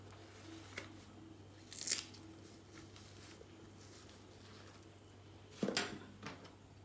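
Knife slicing along the skin of a plantain while peeling it gives two short crisp tearing scrapes, faint and close, against quiet room hum.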